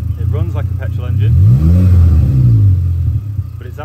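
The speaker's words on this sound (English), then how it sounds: "it runs like a petrol engine" A hydrogen-powered car engine runs and revs up, a low rumbling drone swelling and then settling, close and loud, with someone talking over the start and end.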